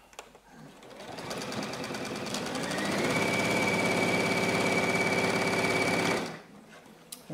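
Juki UX8 sewing machine with dual feed stitching upholstery velvet in reverse at its adjustable reverse speed, a steady rapid mechanical whir that ramps up and holds for several seconds before stopping, close and loud.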